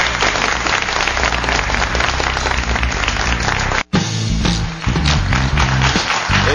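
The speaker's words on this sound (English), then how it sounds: "Good clapping" Studio audience applause in a television tech show studio, a dense continuous wash of clapping that breaks off for an instant partway through, then resumes slightly thinner.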